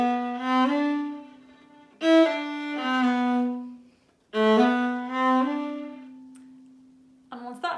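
Viola notes bowed in a short-long swing rhythm, heard as three close, clear phrases separated by short gaps, each starting with a quick note that leads into a held one.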